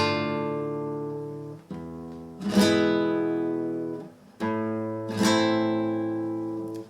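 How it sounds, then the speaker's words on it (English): Flamenco guitar strings lightly brushed with the back of the fingers in soft strums, four strokes in two pairs, each chord ringing out and fading before the next. "use the back of your fingers just to grace the strings"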